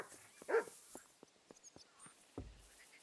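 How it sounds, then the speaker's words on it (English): Dog barking in the medieval video game Kingdom Come: Deliverance II, a few short close barks and yips, one louder bark near the start and another toward the end, with quiet gaps between. "What you barking about, mutt?"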